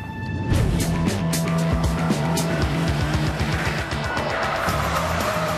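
A rear-wheel drive sports car laps a race circuit, its engine revving up and down in rapid pulses with tire squeal and skidding, loud and close throughout.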